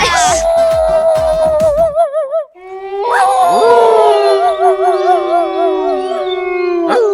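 A dog howls on a comedy stage: long, wavering, drawn-out cries close and loud, broken by a short pause, then a second sustained howl with rising and falling pitch.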